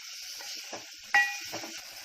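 Black pepper tempering in hot desi ghee, a steady soft sizzle and hiss throughout with a sharper crackling burst near the middle, close and fairly quiet, no voices.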